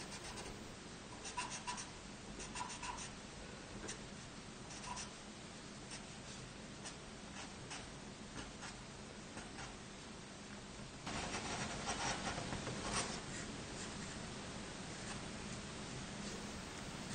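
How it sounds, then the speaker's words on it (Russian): A pencil sketches lines on a printed photo, giving soft, quiet scratching strokes that come in uneven bursts, growing slightly louder toward the end. "наметить карандашом линии, что буду потом рисовать"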